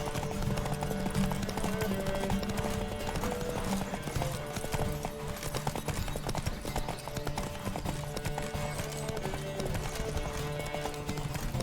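Rapid hoofbeats of a galloping horse in The Witcher 3 video game drum steadily and continuously, with a musical soundtrack playing underneath.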